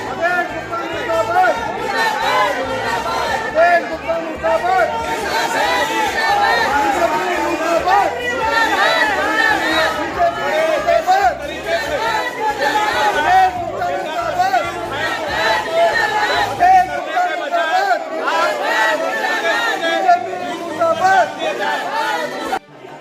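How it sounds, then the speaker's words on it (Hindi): Councillors of the ruling and opposition sides in the EDMC municipal assembly hall shout slogans at each other, a loud dense mass of chanting and overlapping yelling that runs without pause. "सत्ता पक्ष और विपक्ष के पार्षदों ने एक दूसरे के खिलाफ देश विरोधी और हिंदू विरोधी होने का आरोप लगाते हुए नारेबाजी शुरू कर दी"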